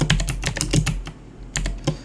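Quick bursts of keystrokes on a computer keyboard, close and crisp, with a short pause in the middle before another flurry of taps.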